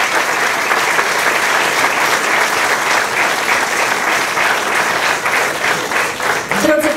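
A concert audience at a Polish school-and-care centre gives loud, sustained applause, with dense, steady clapping close by from start to finish and a brief voice near the end.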